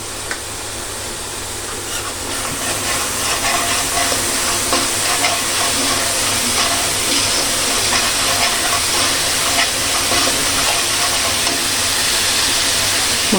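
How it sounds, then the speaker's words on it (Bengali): Spice paste of turmeric, red chili, Kashmiri chili powder and salt sizzles steadily in a hot pan, a loud continuous frying hiss with occasional stirring scrapes throughout. "মশলাটাকে একটু কষিয়ে নিই।"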